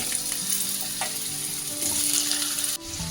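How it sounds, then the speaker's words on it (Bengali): Potatoes frying in hot oil with a little salt and turmeric in a pan, giving a steady, close, continuous sizzle that fills the whole stretch before stopping abruptly near the end. "আলুটা আমি একটু লাল করে ভেজে নেবো।"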